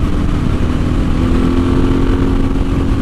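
A Suzuki DR650 motorcycle engine drones at high revs at about 70 mph, a steady, strained roar that holds constant without letup.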